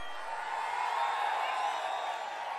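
Crowd noise at an outdoor political campaign rally in Pappireddipatti, Pennagaram, a steady broad roar of many voices that stays loud and unbroken for a few seconds.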